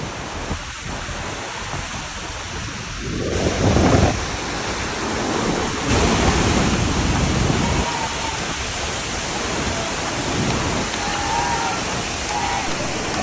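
Iguazu Falls on the Brazilian side roars as a dense, continuous wash of falling water heard from very close, loud and unbroken, with a few louder surges of spray.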